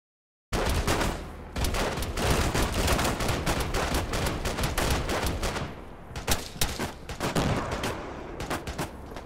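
Sustained, dense rifle and machine-gun fire in the military shooter ArmA 3, loud continuous rattling volleys of overlapping shots that run for several seconds with a few sharper individual cracks near the end.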